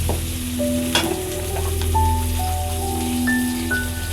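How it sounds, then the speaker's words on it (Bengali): Onions fry in a pan for a fish dish and are stirred until reddish, making a continuous close sizzle with soft stirring scrapes over a low background hum. "নাড়াচাড়া করে পেঁয়াজটা লাল করতে হবে"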